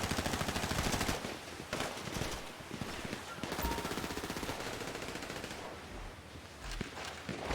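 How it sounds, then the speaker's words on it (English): A combat MG machine gun in GTA Online fires long, rapid, loud bursts of gunfire, with brief gaps between the sustained strings of shots. "That combat MG is so much more effective than"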